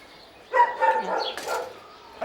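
A puppy at a New Zealand dog pound gives a few short yips and barks, close and moderately loud, in one brief burst with no speech.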